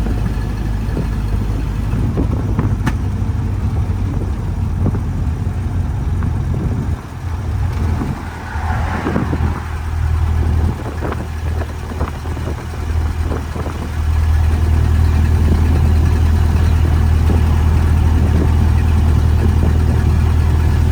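An open-top convertible cruising on a hot Florida road, a steady low engine drone and road rumble running throughout with wind noise, dipping briefly mid-clip before settling into a smoother, louder hum.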